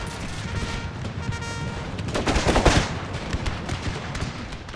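Infantry musket volley in a Total War game set in the Thirty Years' War, Habsburg side: a sustained, crackling ripple of many shots blending into a rolling roar that swells to a peak midway, then tapers.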